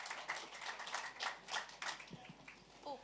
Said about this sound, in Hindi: बहुत सारे तालियां हो जाए सर के लिए.